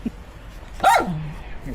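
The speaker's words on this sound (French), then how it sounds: "Je crois qu'il y a un petit chien là-dessous." A small dog gives a single short, sharp yip-like bark from beneath a camper van during a maintenance session, fairly close against a quiet background.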